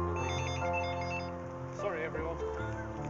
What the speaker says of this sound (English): Ian, that's your phone